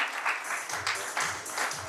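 Brief burst of audience applause at a healthcare and wellness awards ceremony in Delhi, a close, loud patter of many hands clapping with slight surges.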